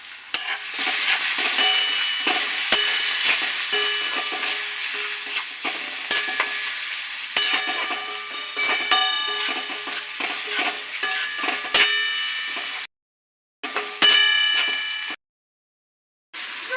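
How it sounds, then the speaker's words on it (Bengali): Spice masala with salt, chilli, coriander and cumin powders stirred and fried in a pan for egg chops, a close steady sizzle broken by repeated scraping strokes of the spoon, cut off by two brief silences near the end. "আর একটু নাড়াচাড়া করে মশলাটাকে নামিয়ে নেব।"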